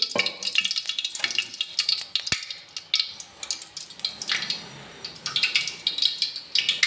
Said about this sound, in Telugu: బెండకాయ ఫ్రైకి నూనె వేసుకున్నాను